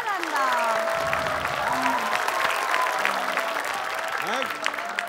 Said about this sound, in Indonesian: tepuk tangan untuk teman baru Cak Lontong.